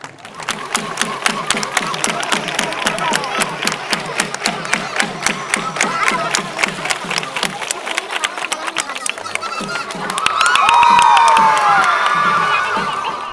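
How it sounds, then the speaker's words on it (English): Spectators cheering and chanting slogans at the Wagah Border flag-lowering ceremony: a loud crowd chants in a steady rhythmic beat, then swells into a long sustained roar of cheering near the end. "The atmosphere is charged with patriotic fervor, with spectators cheering and chanting slogans."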